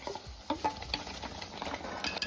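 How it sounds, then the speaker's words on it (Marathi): Mango pulp with a spoonful of ghee cooks over a low flame while a spoon stirs it continuously, producing soft scraping and light clinks against the pan over a faint bubbling sizzle, quiet and close, without speech. "आंब्याचा रस चांगला शिजवून घ्यायचा आहे आणि सतत ना असं ढवळत राहायचंय"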